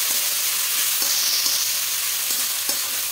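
Ginger-garlic paste frying with onions in a pan, giving a loud, constant hissing sizzle close by with occasional soft scrapes of stirring.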